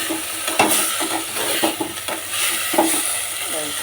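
Spices for a hilsa fish curry with spinach sautéing in a pan, a continuous sizzle punctuated by regular stirring scrapes and light clinks, close and moderately loud, without speech.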